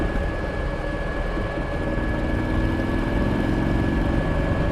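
A Buell XB12Ss motorcycle with a Harley-derived V-twin cruises at highway speed, its engine droning loudly and steadily under strong wind roar, with no voices.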